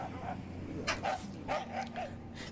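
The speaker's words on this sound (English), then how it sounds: "Apparently there are dogs" Dogs barking on a farm, a handful of short, fairly distant yips and barks spaced through a brief stretch over faint background murmur.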